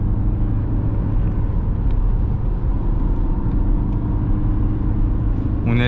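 BMW 125d F20 diesel hatchback pushed hard into a corner in Sport Plus mode, a steady loud low engine and road rumble from inside the cabin, continuous with no talking.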